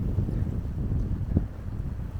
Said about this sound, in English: the wind is still with us, and quite strong and gusty